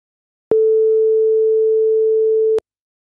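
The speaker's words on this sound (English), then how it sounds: "if I play them both at the same time together, what we hear is effectively a sine wave" A pure steady sine tone, loud and unwavering, holding for about two seconds before stopping abruptly, with nothing else around it.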